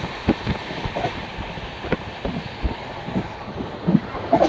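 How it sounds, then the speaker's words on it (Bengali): Ranchi Intercity Express train running nonstop past a small station, heard from inside: steady rolling rumble with irregular clacks and thumps of wheels over rail joints, plus light wind noise. "মাহমুদপুর স্টেশন স্কিপ করছে এই মুহূর্তে আমাদের ট্রেন"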